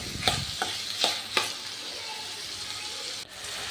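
Mixed vegetables with salt frying in a pan for a vegetable curry, giving a steady bright sizzle, with a few sharp scrapes and clicks of the stirring spoon near the start.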